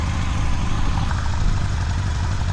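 A Honda Nighthawk CB750 motorcycle engine runs steadily at low revs with a constant low rumble, close and loud, and no voices.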